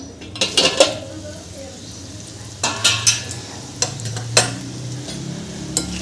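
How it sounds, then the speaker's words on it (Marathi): Bitter gourd stir-frying in a pan, with a spatula scraping and clinking against the metal in irregular bursts over a soft steady sizzle, close and fairly loud. "अधेमध्ये पलटत राहायचं आहे म्हणजे परतून घ्यायचं आहे भाजीला"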